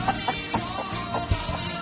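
Rooster clucking near a hen brooding eggs outdoors, short repeated clucks and calls scattered over a faint outdoor background, fairly close.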